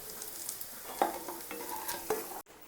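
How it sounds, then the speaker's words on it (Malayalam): Chicken frying in oil in a pan for a rava biryani, a quiet continuous sizzle with a few stirring scrapes and clinks, no voices. "നമ്മൾ ഓയിൽ ഒഴിച്ചു നല്ലപോലെ ചിക്കനൊക്കെ ഒന്ന് വെന്ത് വരുന്നേ ഉള്ളൂ"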